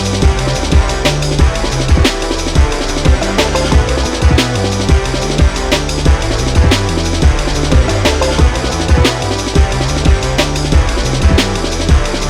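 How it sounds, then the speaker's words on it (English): Hand-drawn optical film soundtrack made from a row of small marks, a loud, dense, buzzing synthetic tone with a steady pulsing rhythm and regular sharp clicks, sustained throughout without any voice. "A row of small marks would sound like this."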